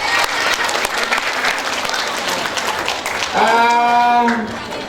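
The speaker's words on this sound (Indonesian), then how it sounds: "Tepuk tangan yang meriah untuk beliau." An audience claps warmly for a doctor guest at a talk show, a full steady round of applause, with a voice calling out over it near the end.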